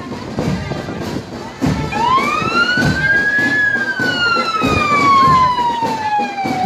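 An ambulance belonging to a health centre sounds its siren during a civic parade in Callancas, a loud wailing tone that rises and slowly falls over steady crowd and street noise.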